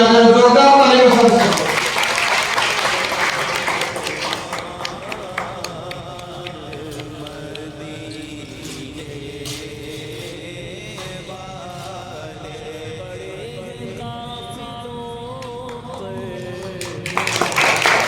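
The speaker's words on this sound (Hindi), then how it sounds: "जोरदार तालियों से।" An audience at a two-day teacher training event for Urdu language and Urdu Olympic fairs in Belgaum bursts into loud clapping and cheering. The applause fades over several seconds, and music and speech carry on beneath it before another burst of applause near the end.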